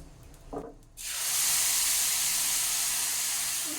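Ground spice paste hits a hot pan: a short clatter, then a sudden loud sizzle that holds as a broad steady hiss, close and with no voices.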